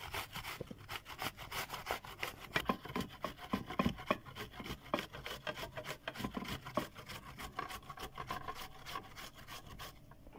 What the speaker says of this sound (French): je vais gratter l'oignon